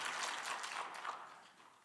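Applause in a church congregation after a sermon story about healing, a soft, steady patter of many hands that thins out toward the end, heard at a distance and fairly quiet.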